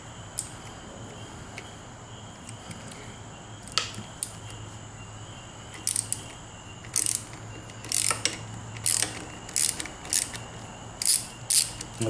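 A ratchet wrench clicks in short bursts while loosening a bolt on the handlebar of a 2022 Harley-Davidson Street Glide Special. The ratcheting is close and crisp over quiet background hum, with several spaced runs that come faster toward the end.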